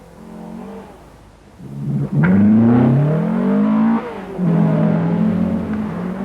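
A 1985 rally car launches into a forest special stage near Cullendulla, engine idling, then a sharp rev and hard acceleration with rising pitch, a brief gear-change lift, and another loud climb up close.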